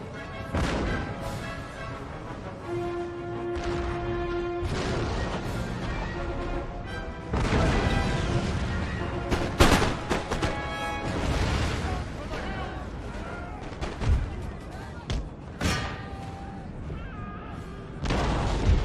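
Booming cannon blasts and crashing impacts from an Empire: Total War battle, dense and loud, with someone talking over the noise.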